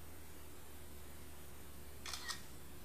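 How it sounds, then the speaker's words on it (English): An iPhone camera shutter clicks twice in quick succession near the end of a quiet stretch during a jewelry photography shoot. "And click your shutter."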